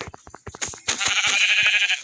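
A sheep bleats in a farming video game, with a few soft footstep-like taps followed by one loud, wavering bleat close up and alone.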